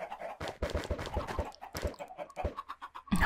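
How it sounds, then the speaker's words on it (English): Chickens clucking in the video game Minecraft, Project Ozone 3 modpack: repeated short, close clucks and squawks from several birds in uneven bursts, fairly loud and with no talking. "We walked just literally a little way away and we found four freaking chickens, dude."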